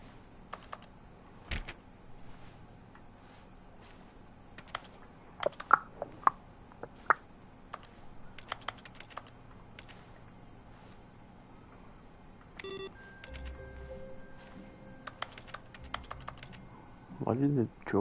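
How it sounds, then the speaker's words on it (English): Office drawers in the game The Stanley Parable give off computer-keyboard typing clicks, scattered short taps and rattles spread across the stretch, with a mechanical whir and a voice near the end. "Why do the drawers make the keyboard sound?"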